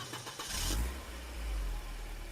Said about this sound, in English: I'm in my rental car and I'm heading back to the airport.